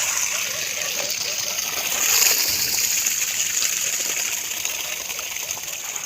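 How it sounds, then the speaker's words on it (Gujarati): Steady rushing water pours continuously while watering trees, a dense hiss that swells slightly partway through and holds at a fairly loud level. "પાછળ આપ જોઈ શકો છો પાણી પાવાનું કાર્ય ચાલુ છે"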